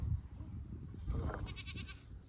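Nigerian dwarf goats and sheep bleat close by on a small farm, a couple of short, wavering cries in quick succession with faint background noise.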